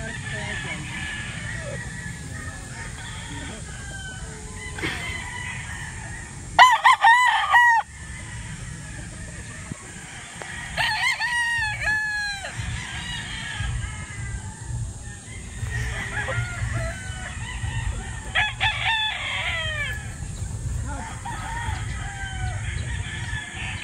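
A Kanawain hatch gamefowl rooster crows several times at a game farm, loud and near, with other birds clucking and crowing around it and a constant low farmyard background.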